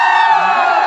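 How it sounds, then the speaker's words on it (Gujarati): A crowd cheering and shouting at an outdoor gathering in Lunawada, Mahisagar district, a loud, dense burst of voices and whoops heard close and continuous. "જોરદાર તાળી થઈ જાય."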